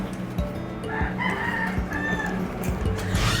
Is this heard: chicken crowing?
yes